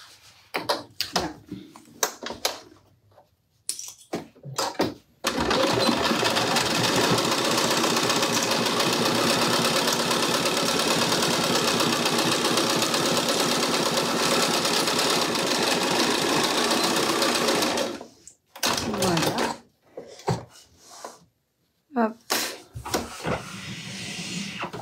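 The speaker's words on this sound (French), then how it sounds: "On fait une surpiqûre sur le lainage, Arlette." A sewing machine topstitches on wool fabric in one long steady run of whirring, rapid needle chatter, framed by shorter stop-start bursts before and after.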